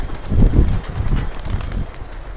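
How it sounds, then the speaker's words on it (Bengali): Racing pigeons, 88 birds, stream out of a loft in a quick flurry of low, soft wing flaps and thumps, close to the microphone with some wind rumble. "এখানে মোট 88টা কবুতর আছে। দেখেন কি হারে বের হচ্ছে।"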